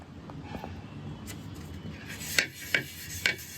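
A kitchen utensil scrubbed by hand, soft rubbing strokes followed by three sharp scraping rasps at steady intervals, close and fairly quiet with no talking.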